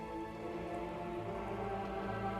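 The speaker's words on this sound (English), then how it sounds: "they added rain to all the outside areas that wasn't originally there" Steady rain falls over the outdoor areas in Batman: Arkham Asylum (PS4 Return to Arkham version), a continuous soft hiss of rain on surfaces mixed with a low game ambience hum, with no talk.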